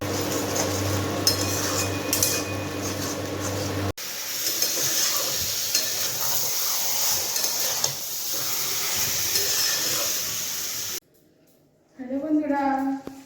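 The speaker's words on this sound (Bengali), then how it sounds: "আর এদিকে আমি এঁচোড়ের তরকারি সব ভাজাভুজি সব কিছু করে নিচ্ছি" Jackfruit curry sizzles and hisses while it fries in a pan, with stirring scrapes heard close up. The sizzle runs steadily through several cuts and drops out near the end, where a voice speaks.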